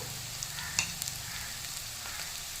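Golden-brown onions with turmeric powder frying in a pan make a close, even sizzle with a couple of faint clicks from stirring.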